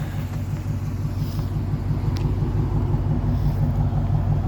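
A Dodge Challenger engine idles with a loud, steady low rumble, close by and without a break, with no voices over it.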